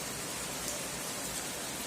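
Steady rain pours down outdoors over a potato garden in Ukraine, a dense even hiss with no pauses, close and moderately loud, no voices.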